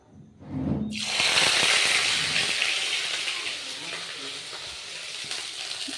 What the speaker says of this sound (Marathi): अद्रक लसणाची पेस्ट टाकून घेतलेली आहे